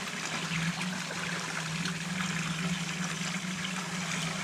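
Water gushes under pressure from a solar-powered borewell in a village, a steady, close rushing flow with a constant low hum beneath, loud and unbroken for the whole stretch.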